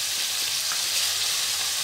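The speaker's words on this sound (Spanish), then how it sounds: "Lo vamos a rehogar de todo bien, así junto" Onion, garlic and pepper sautéing together in a paella pan: a loud, dense, continuous hiss of frying, steady and close, with no talk.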